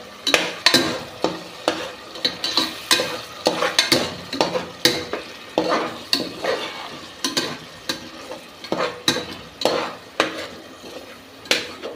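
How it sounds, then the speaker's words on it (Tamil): Onions sautéing with ginger and garlic in a pan for chicken gravy, with a spoon repeatedly stirring and scraping the pan in quick, irregular strokes over a soft sizzle, close and without talk. "இப்போ இதையும் வதக்கி விட்டுக்கலாம்."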